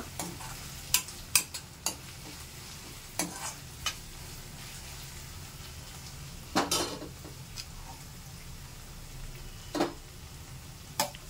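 Stirring a potlakaya (snake gourd) curry in a pot: faint background simmer broken by scattered soft clicks and scrapes of a spoon against the pot, quiet and unhurried.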